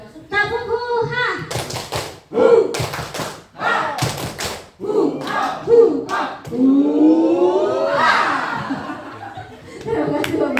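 A room of teachers repeats the tepuk huhah clapping chant, with sharp clusters of claps broken up by shouts, laughter and lively group voices.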